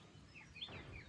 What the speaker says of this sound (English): You hear the birds this morning?